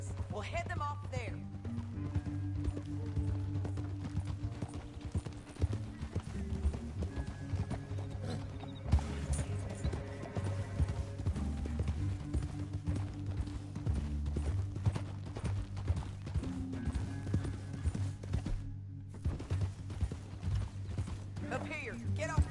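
Steady clip-clop of horse hooves at a gallop in the video game Red Dead Redemption 2, with a horse whinny and mechanical clanking under continuous music and talking voices.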